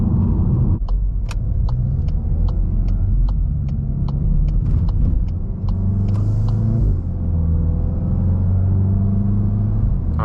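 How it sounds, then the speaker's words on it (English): A Volkswagen Golf GTI Mk8 engine in sport mode pulls hard and steadily, its pitch climbing and then dropping as the automatic transmission shifts gears. It's loud and close, with no talking. "I love the shifts from this transmission."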